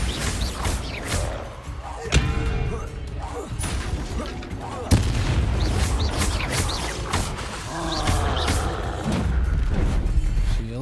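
Bombarda spell blasts in Hogwarts Legacy combat, sharp booming impacts landing around 2 and 5 seconds amid ongoing clashing effects and game noise, loud and close.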